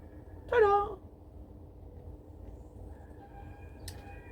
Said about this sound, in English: Just roosters.